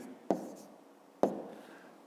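A pen writes answer numbers by hand on paper in a quiet room, making two short, close taps and scratches about a second apart, each fading quickly.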